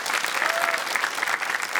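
An audience at a live talk event in Almaty breaks into a brief, bright round of applause, many hands clapping at once for under two seconds.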